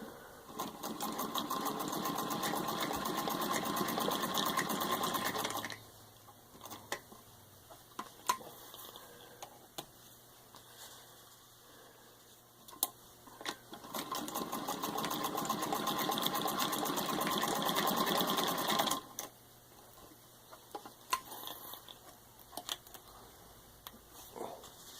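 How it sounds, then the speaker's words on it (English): An antique 1923 Singer 66-4 Red Eye treadle sewing machine stitches through six layers of denim in two long, loud runs of rapid rhythmic clatter, separated by quieter stretches of scattered clicks and handling taps. "So I'm just going to show you how well it stitches."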